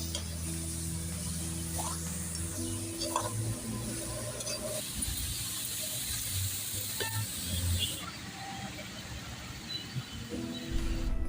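Vegetables with soy sauce cook for momo filling while a spoon stirs and scrapes the pan, a soft sizzle under scattered scraping strokes and clinks, with a brief steamy hiss near the end.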